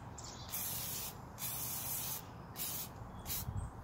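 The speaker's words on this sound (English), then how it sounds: "Spray on it." Several short bursts of aerosol spray hiss close by on Ford F350 backing plates, each lasting about a second, separated by brief pauses.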